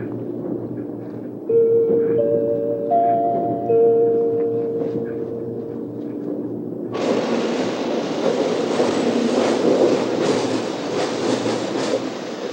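Shinkansen high-speed train arriving at Tokyo in 1983: soft tones ring out first over a quiet hum, then a loud, sustained rush of train noise with rattling wheels takes over and continues to the end.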